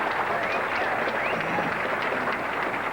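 Crowd applause at a 1987 professional bowling tournament, a steady broad wash of clapping and cheering that holds evenly throughout at fairly close range, with a light murmur of voices mixed in.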